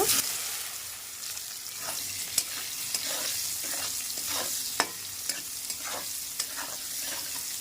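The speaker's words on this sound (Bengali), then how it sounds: "তেলের মধ্যে দিয়ে দিচ্ছি হলুদ সামান্য একটু লবণ সোয়াবিনগুলিকে দিয়ে ভেজে নেব" Soya chunks frying in hot oil with turmeric and a little salt, a steady close sizzle crackling throughout, broken by regular clicks and scrapes of a stirring spoon.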